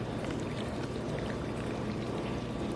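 Boiling water being poured into a jar already half full of vinegar, over onions and jalapenos, making a steady close-up splashing gurgle.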